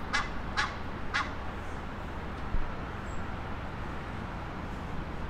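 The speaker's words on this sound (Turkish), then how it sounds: "Orada bir kaz ötüyor." A goose honks three times in quick succession in a German city centre, clear but somewhat distant over a steady wash of urban background noise.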